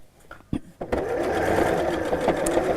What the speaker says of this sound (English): this time I'm sewing nice and snugly right up against the cord